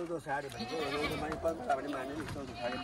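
Local Khari goats bleating several times close by on a farm in east Nepal, wavering cries overlapping one another with a person talking in between.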